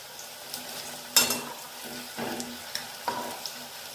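Egg pakoras fry in hot oil with a soft, continuous sizzle. A few louder crackling bursts and utensil clicks come close by, with no voices.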